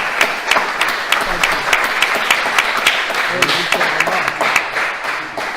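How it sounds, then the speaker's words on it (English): Warm audience applause after a question-and-answer session with a grandmaster, a crowd clapping steadily and fairly close with a voice speaking briefly partway through. "Let's give Grandmaster a warm round of applause."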